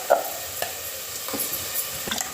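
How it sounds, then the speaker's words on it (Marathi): Grated coconut sautéed in a pan for an appe batter, stirred with a spoon in a few scraping strokes over a light, steady sizzle. "एक दोन मिनिटं खोबरे आपण परतून घेऊया."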